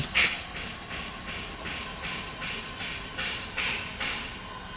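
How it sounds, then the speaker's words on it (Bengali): A metro rail train at Diabari, Uttara, rolls past slowly, its wheels clicking in a regular rhythm of joint beats over a continuous rumbling hiss, fairly close and without talk. "metro rail"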